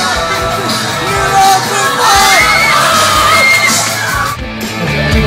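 A concert crowd at SCAPE in Singapore cheers, yells and whoops loudly and steadily, a dense wall of voices close by with shouts rising above the din.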